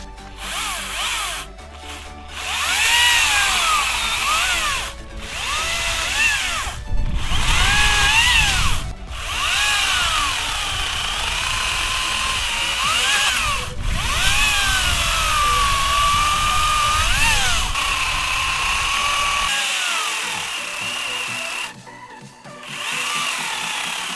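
A Makita 10-inch 18V cordless chainsaw, model XCU06, cutting down a tree outdoors on a fully charged battery. The motor whines loudly and steadily, its pitch dipping and rising as the chain bites into wood, with brief pauses and revs throughout.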